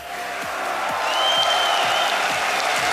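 A large esports crowd at DreamHack Winter 2014 applauds and cheers continuously during a Counter-Strike grand final, a dense roar of clapping that swells slightly and holds steady at a distance.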